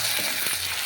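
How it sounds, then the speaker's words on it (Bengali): Spices with ground cumin and salt frying in oil in a pan for a Bengali chicken curry, a steady close hiss of sizzling broken by a few soft scraping strokes of stirring, with no talking. "এবার দেখো, মশলাটা ভালোভাবে ভেজে নিয়েছি।"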